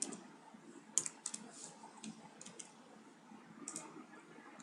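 Light, quiet typing on a computer keyboard during HTML coding, scattered key clicks with a few sharper taps, close by and without speech.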